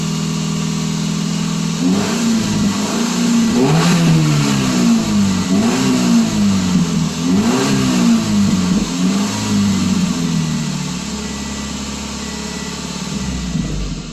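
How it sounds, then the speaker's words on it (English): A 2007 Subaru Impreza engine with a rough idle after warm-up revs up in several rising and falling surges, then settles back to a steady low idle, loud and close. "revving it up spins the pump a little faster and then it goes down"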